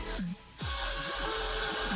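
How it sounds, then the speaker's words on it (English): A short hiss of Got2b hair spray, then a longer steady spray burst over a lace frontal wig with soft rubbing noises underneath. "and I spray it down a little bit more"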